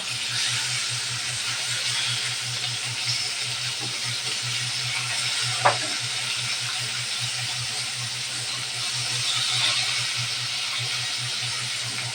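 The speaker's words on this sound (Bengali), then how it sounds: "মাছটা একবার ভাজা হয়ে গেছে এখন উল্টে নেব" Rohu fish rubbed with turmeric and salt fries in hot oil, giving a steady, even hiss with one short sharp pop and a low hum beneath.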